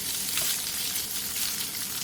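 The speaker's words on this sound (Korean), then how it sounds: "뜨겁게 달군 팬에 남은 삼겹살을 넣은 뒤 센 불에서 노릇노릇하게 볶아주세요" Pork belly sizzles and stir-fries over high heat in a hot pan, a dense, steady crackling hiss that stays loud and even throughout with no voices.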